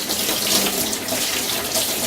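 Water runs steadily from a tap while vegetables are washed under it, a close, constant splashing hiss with no talk.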